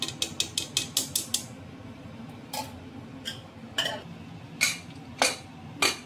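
A pressure cooker lid is fitted and locked onto a cooker of khichdi: a quick run of about eight sharp metallic clicks and ratcheting ticks, followed by several scattered clinks and scrapes, close and fairly loud with no voices.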